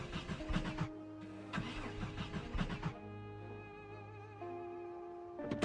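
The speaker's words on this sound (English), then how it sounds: "I tried to start up the car" A car engine in the video game Project Zomboid cranks repeatedly as if trying to start, with rhythmic churning bursts and steady mechanical tones between attempts, clear and close with no talk.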